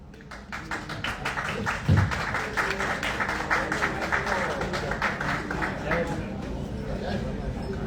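Loud applause from an audience at a live Bhojpuri music event as guests are called up onto the stage, dense clapping sustained throughout with a voice talking over it.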